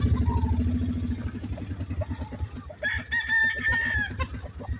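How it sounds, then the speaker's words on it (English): An old brood rooster kept for breeding crows loudly and close, with clucking and other fowl sounds around it and a low engine-like hum underneath. "There's old brood cock I've been breeding. Thought I'd put him out here and let him rest a while."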